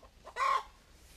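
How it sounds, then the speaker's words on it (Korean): A hen on a small farm gives one short, loud cluck, close by, between quiet background sounds. "암탉이 있으니까"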